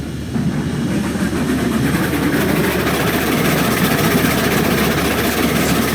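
A heavy Climax locomotive in the game Railroads Online rumbles steadily, its exhaust noise dense and continuous at close range with no voices.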